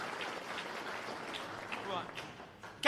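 An awards-event audience applauds for UPCO and Catherine Sanford, a steady wash of many hands clapping at moderate volume from a distance, with no speech over it.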